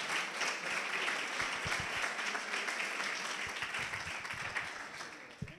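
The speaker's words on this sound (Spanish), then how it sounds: "Un aplauso para Carlos Hernández." An audience at a PechaKucha Night in Salamanca applauding steadily, dense clapping throughout that tapers slightly toward the end, with no talking over it.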